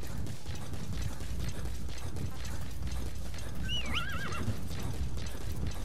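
D-Horse in Metal Gear Solid V whinnies once in a sharp rising call midway through, over a dense bed of hoofbeats and mechanical game noise that runs loud and steady throughout.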